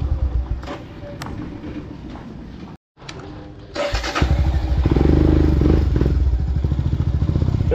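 Motorcycle engine fitted with a modified aftermarket exhaust, loud and close, with a rough, throbbing idle that swells into a heavy rumbling rev after a brief pause and some clattering handling noise.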